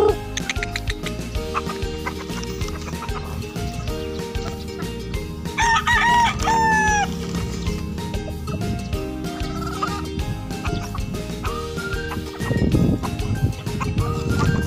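Many chickens gathered in a windy, cool resting place keep up steady clucking, with a rooster's crow rising clearly around the middle, loud and layered throughout with no speech.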